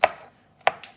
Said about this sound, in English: And this is a action called chopping.